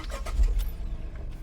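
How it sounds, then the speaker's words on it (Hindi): A Tata Punch's engine cranks and catches, a short low-pitched starter churn settling into a vibrating idle, close and fairly loud. "तो भाई अब कर रहे हैं हम पंच का इंजन चालू"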